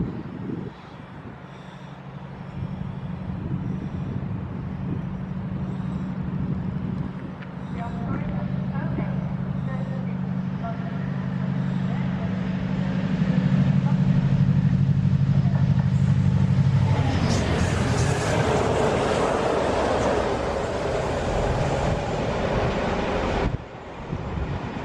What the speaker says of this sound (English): This is our train, which is running late because we waited for the convoy